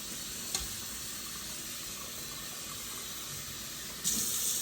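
Water from a kitchen tap pours steadily over drained spaghetti in a strainer as a constant hissing rush, which grows louder near the end.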